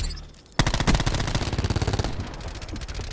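Rapid automatic gunfire rattles loudly in Black Ops 4, a dense burst of close shots lasting about a second and a half, then tailing off into quieter rapid pops and decay.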